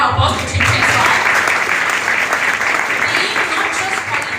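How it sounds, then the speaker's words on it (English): An audience at a Trim and Fit wellness session claps loudly and steadily for several seconds, a dense, sustained wash of hands filling the room, with faint voices mixed underneath. "Can we give a round of applause to Cream Shake?"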